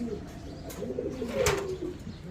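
Caged pigeons coo softly and steadily, a low murmuring warble with one brief louder call near the middle, close by with faint background rustle.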